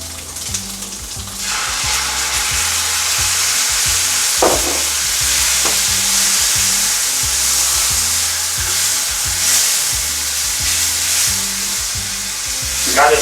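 Hot sauce poured into a frying pan with bologna sizzles loudly and continuously, a dense close-up crackle with a few brief scraping or stirring accents and no one speaking.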